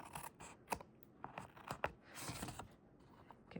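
Scissors trimming paper scrap overhangs from a round stamped card border, a quick series of crisp snips and paper scrapes close up, quiet and irregular with no talk.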